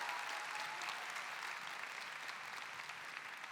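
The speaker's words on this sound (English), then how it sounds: "Give them a clap." An audience at a church conference applauds a group of girls, a faint, steady wash of many hands clapping at a distance that holds evenly throughout.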